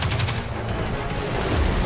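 The player's gun firing in Destiny 2, a dense, loud volley of shots blending into continuous booming gunfire for a brief moment.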